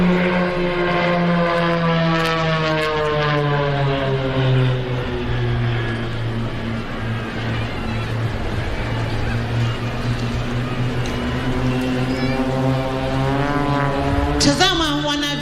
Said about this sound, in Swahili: Hivi sasa wakiwa tena kwa mara nyingine pamoja, ndege hizi zinaingia kwa umaridadi kwa pamoja.